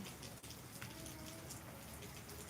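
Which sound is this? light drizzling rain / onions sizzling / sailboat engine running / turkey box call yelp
light drizzling rain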